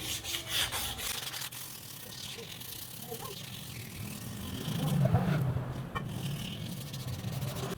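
Sandpaper rubbing over a Titan 150 motorcycle wheel gives a faint, steady scratchy scrubbing with uneven strokes, heard close up under a quiet room tone.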